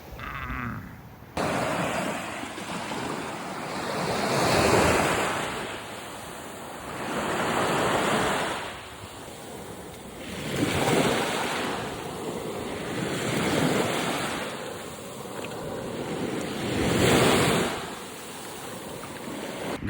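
Surf rolls onto a beach in Turkey in slow, regular swells, each wave building and washing away every few seconds, steady and fairly close with wind buffeting the microphone and no voices.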